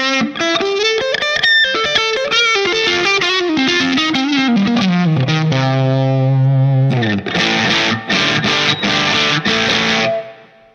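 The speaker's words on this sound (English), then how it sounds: "play a bass through a Fender Champ. You know, where it sounds like the amp's farting" Bass guitar played loud through a Line 6 POD HD500 modeling a Fender Champ amp, heavily distorted and buzzy, with a descending line of sustained notes and then a run of choppy, gritty chords near the end.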